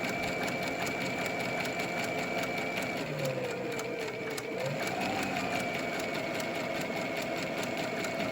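A sewing machine stitching a curved seam on a fabric face mask, a steady fast mechanical whir that runs continuously and dips slightly in pitch midway, close and moderately quiet with no talking.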